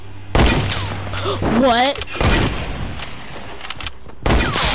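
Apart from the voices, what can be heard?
gunfire in the video game Fortnite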